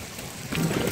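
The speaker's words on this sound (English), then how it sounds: "Look at this rain," Heavy rain falls outdoors as a dense, hissing downpour that swells louder over a brief moment, with no voices.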